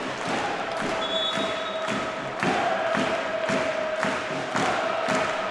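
Basketball arena crowd at Martini Plaza, Groningen, before a Donar Groningen versus BK Opava ENBLeague game: a loud, steady roar of cheering and clapping fills the space, with rhythmic thumps pulsing about every second beneath it.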